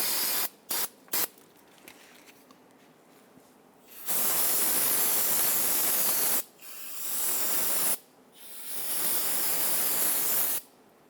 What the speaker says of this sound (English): I'm going to go ahead and use some spray solvent, clean off any residual brake fluid